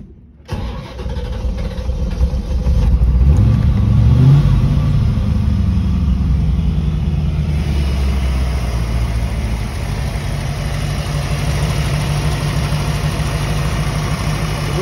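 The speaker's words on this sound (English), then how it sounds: "let me start it up for you. Let you hear this little sweet little engine." A 1989 Chevrolet Corvette engine cranks and catches, revs briefly, then settles into a steady, smooth idle that continues to the end.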